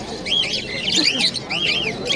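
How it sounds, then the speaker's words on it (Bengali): Birds call at a rural pigeon market selling hill pigeons, Giribaz and Madrasi breeds, with repeated rising-falling chirps, fairly close, over a busy background murmur. "সুন্দর কোয়ালিটি কালার হাই পাহাড়ি কবুতর রয়েছে, গিরিবাজ মাদ্রাসি"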